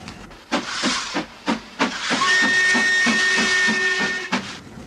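Steam locomotive approaching a tunnel, with a series of rhythmic steam chuffs followed by a long, loud, sustained whistle blast mixed with hissing steam.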